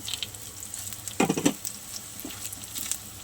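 Black cumin, green and dried chillies and garlic crackle in hot oil as a tempering. A steady hiss runs throughout, with a brief louder burst of stirring and spattering midway and no talking.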